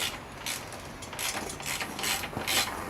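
A ratchet works on a brake caliper of a Yamaha MT-07 motorcycle during fork servicing, giving several bursts of quick, close clicking from the pawl.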